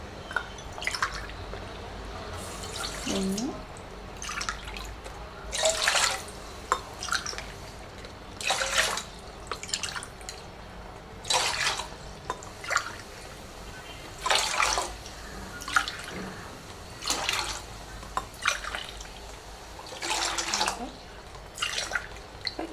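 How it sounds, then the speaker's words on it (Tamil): Water poured by the tumbler into a pot for rava pongal, in a series of short splashing bursts, fairly quiet, with drips and pauses between pours. "அதனால் 7 டம்ளர் வந்து தண்ணி ஊற்றுறோம்"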